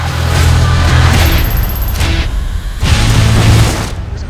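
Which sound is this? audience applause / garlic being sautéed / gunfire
gunfire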